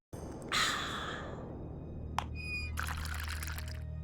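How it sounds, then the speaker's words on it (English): A video game character drinks water, with soft gulping and gasping breaths followed by a trickling, pouring liquid sound, faint and close. "I hate her drinking sounds."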